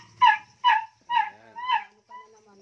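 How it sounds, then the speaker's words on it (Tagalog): A dog gives a series of four or five short, nasal, honking yelps in quick succession, close and fairly loud, with quiet gaps between them. "Ang ingay ng aso mong ito."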